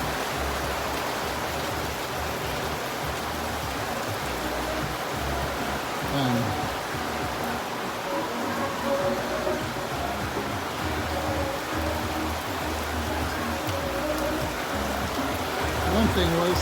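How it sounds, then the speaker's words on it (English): Steady rain hisses over an island beach shelter while people wait it out, a dense continuous wash with a few faint voices underneath. "wait for the rain to end a little bit."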